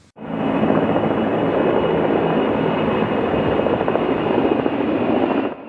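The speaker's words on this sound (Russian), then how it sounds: "Шум вертолетных лопастей и самолетных двигателей сегодня нарушил спокойное и размеренное утро самарцев." A loud, continuous roar of helicopters and airplanes passes overhead above Samara in the morning, helicopter rotor thumping blended with engine drone, steady throughout before cutting off at the end.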